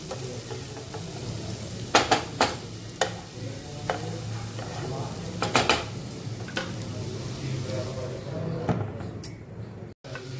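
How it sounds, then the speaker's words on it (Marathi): Mixed vegetables with masala stir-fried in a pan, a steady low sizzle under repeated scraping and clanking of a spoon against the metal, with a brief pause near the end. "झाकण काढून परत एकदा आपण परतून घेऊया"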